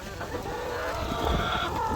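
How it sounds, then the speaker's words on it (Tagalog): Laying hens cluck loudly and continuously in a farm coop, a dense chorus of overlapping squawks and cackles close by. "napakaingay so yan po ang sinyalis na mga manok na ito ay nangingitlog na talaga"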